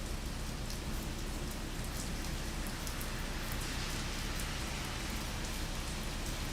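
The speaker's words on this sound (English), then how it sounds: "I'm not really happy about this rain either" Steady, dense rain pours down on a Saturday morning, a continuous even hiss of drops hitting surfaces with faint scattered patter, no voices over it.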